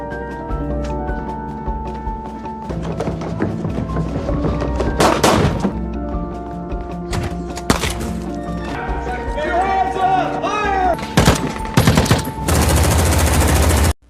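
Gunfire in a dramatic film scene, bursts of rapid shots and heavy thuds mixed with music and effects, with a voice talking over much of it.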